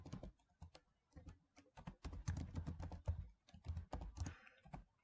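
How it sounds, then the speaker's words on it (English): Keys clatter on a computer keyboard while a word is typed into a Microsoft Word document, a quick irregular run of close, soft taps with brief pauses between bursts. "We'll create it in bold, and we'll type strategy."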